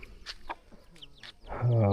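Chickens clucking nearby in short bursts, ending with a louder, sustained call from one bird.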